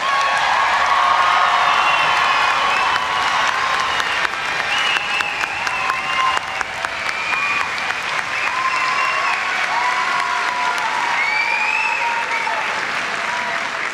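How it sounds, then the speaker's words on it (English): Sustained applause from a large commencement crowd honoring Kennesaw State's newest graduates, steady and dense throughout with scattered faint whoops and cheers rising above the clapping. "please join me in congratulating Kennesaw State's most recent graduates with another"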